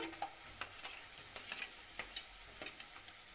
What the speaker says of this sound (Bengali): এবার ভাজা করা আলুগুলো দিয়ে দিলাম